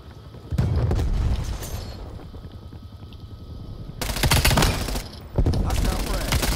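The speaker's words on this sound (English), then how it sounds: "Throwing frag" Frag grenade thrown during a Call of Duty: Black Ops Cold War beta match, amid heavy close automatic gunfire and a loud blast near the end, with rapid shots throughout and a voice talking in the mix.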